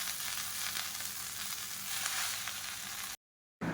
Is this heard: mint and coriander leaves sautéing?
yes